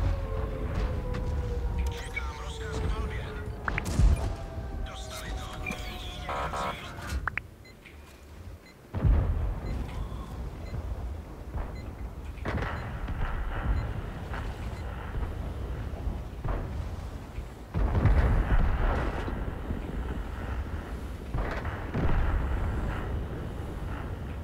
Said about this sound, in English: we are firing armor piercing, so our shells can go through obstacles